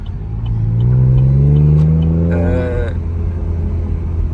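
A Chevrolet Camaro with a V6 engine in sport mode lets its revs fall slowly, a loud close engine tone sliding gradually downward and lingering before settling into idle.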